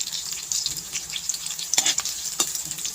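Sliced onions sizzling in an old frying pan for menudo without tomato sauce, a steady bright crackle of hot oil with a couple of sharper bursts and stirring scrapes, close and alone.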